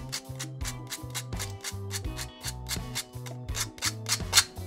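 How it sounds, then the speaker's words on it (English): Sandpaper rubbed by hand over the freshly cut edge of a spotting scope part, a steady series of dry rasping strokes in a quick back-and-forth rhythm, close and fairly loud with no talking. "I'll just take a little bit of sandpaper here and just clean it up just a little."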